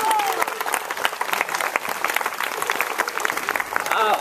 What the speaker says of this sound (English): give a round of applause to everybody who's volunteered this afternoon